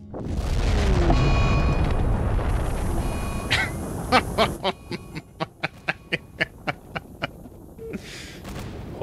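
A missile explodes in the video game Rimworld with a long, loud rumbling blast that fades into a steady series of sharp, evenly spaced clicks.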